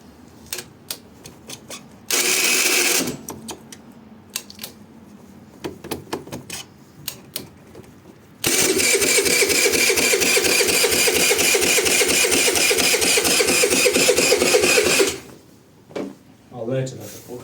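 A scooter's starter motor cranks in two loud, even bursts, one short and one lasting several seconds, without the engine catching, set among scattered clicks and handling noises close by.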